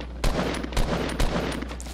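Gunfire in the Fortnite video game, several sharp shots in a loose irregular burst over a steady background hum, loud and close.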